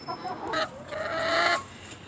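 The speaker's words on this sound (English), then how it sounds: "These are my daughter's chickens." Backyard chickens in a townhouse garden coop cluck close by, with a few short clucks leading into a longer run of fowl calls that fades at the end. No one speaks.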